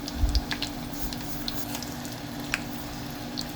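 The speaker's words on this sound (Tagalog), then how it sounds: "Tara, simulan natin magprito." Chicken fillet sizzles and crackles quietly in hot oil, with soft bubbling hiss and scattered pops, plus a couple of low bumps at the start.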